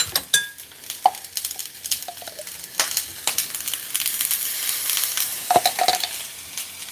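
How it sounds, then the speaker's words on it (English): Garlic sizzling in a pan of oil for salsa, a close crackling fry with irregular spoon scrapes and clinks against the pan and no talk over it. "We got some sizzle. And I want to add a little bit of garlic as well."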